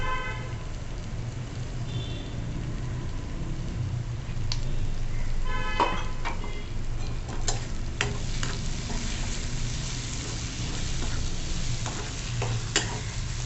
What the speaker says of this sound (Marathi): आता आपली फोडणी छान खमंग झाली